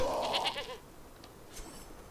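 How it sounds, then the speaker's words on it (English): Mountain goats in the Conan Exiles game bleat twice in quick succession near the start, a loud nasal call that fades into quieter ambient noise with a faint high chirp later. "I think there's a few mountain goats along the way"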